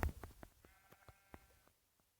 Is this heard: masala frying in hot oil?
no